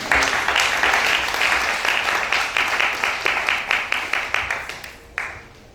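A church congregation claps in applause acclaiming the Lord, the dense clapping settling into a rhythmic, synchronized beat before stopping abruptly near the end.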